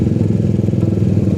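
A motorcycle on a morning highway ride rumbles steadily at close range, a loud, continuous, slightly rough engine drone with no breaks.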